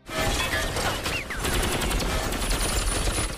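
Rapid gunfire from an action film, a dense burst of shots and crashing impacts with a brief pause midway, loud and continuous throughout.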